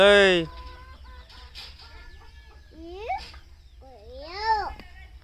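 Chickens cluck and call in a cattle shed, with a few rising squawks standing out clearly against the quiet background while children's voices babble nearby.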